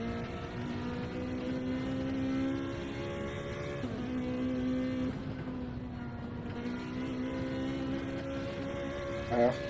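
A Lamborghini GT race car drives at the California 8 Hour GT Challenge, a sustained engine drone that rises and dips across gear changes, with other cars in the field and a faint broadcast atmosphere.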